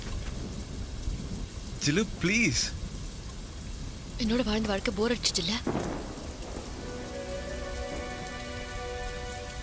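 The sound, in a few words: rain falling with thunder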